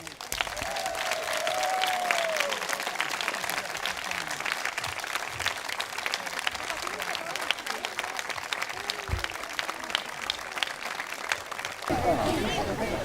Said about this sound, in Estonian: Kõige suurema aplausi ma palun tänasele tantsuetenduse pealavastajale Ulvi Mägile.